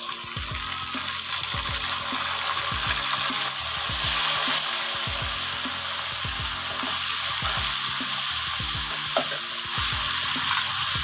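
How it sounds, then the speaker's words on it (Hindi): Ginger-garlic paste sizzles steadily in a pan with fried onions for a Beef Pulao, as a spoon stirs in repeated scraping strokes. "2 मिनट तक हम इसको फ्राई कर लेंगे।"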